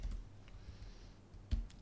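Fingers tap a computer keyboard in a short burst of close, light clicks, ending with one firmer keystroke.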